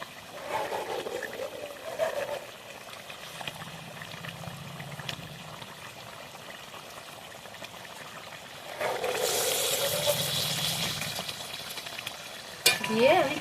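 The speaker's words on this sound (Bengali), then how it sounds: "এবার আমি কিন্তু এক এক করে মাছগুলো দিয়ে দেবো।" Rui fish pieces go into a bubbling, fairly dry curry in a pan for a kalia, with soft bubbling, faint stirring and a louder sizzling burst near the end.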